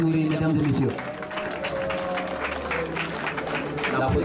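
An audience at a graduation ball applauds an honoured guest, a short burst of clapping and cheering mixed with voices and background music.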